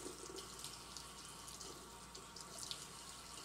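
Warm water running into a bowl for yeast while making bread rolls, a faint steady trickling stream with light splashes, quiet and continuous.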